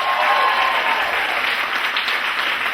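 Loud, dense audience applause for a variety show act in a Maidstone venue, sustained clapping from a full crowd with no gaps, holding steady throughout.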